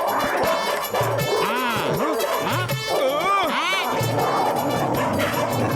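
Cartoon dogs bark and yelp repeatedly in a noisy street scene, with rising and falling whimpering howls, close and loud over background clatter.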